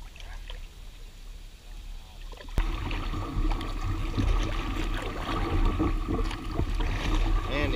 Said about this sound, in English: Man, these lily pads grab your paddle.